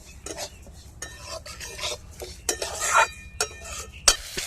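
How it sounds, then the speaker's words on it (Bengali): Mung dal dry-roasting in a wok over low heat, stirred with a utensil: repeated scraping and rustling strokes with light metallic clinks, close and fairly quiet, no voices. "মুগ ডালটা শুকনো কড়াইতে ভেজে নেব"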